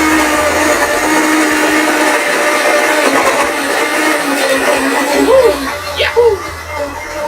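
A kitchen blender runs loudly and steadily with a dense whirring roar, and a voice briefly sings or calls over it toward the end.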